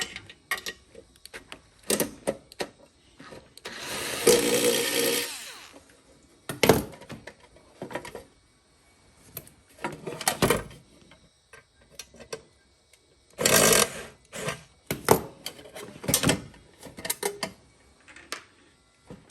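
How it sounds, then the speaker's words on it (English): A battery charger's back plate is worked loose with a screwdriver, giving scattered bursts of clicking, ratcheting screw turns and metallic rattles between quiet pauses, close and moderately loud. "let's take this back plate off, and the transformer will fall out with those four screws."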